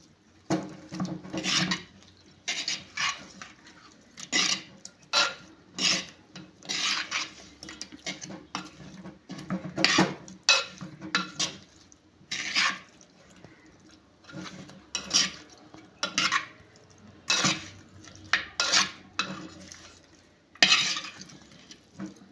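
Fish pieces being mixed by hand or spoon with a coconut oil and spice marinade for a Kerala-style fish fry, giving repeated clinks and scrapes against a bowl in an irregular rhythm, close and fairly quiet, with no talking.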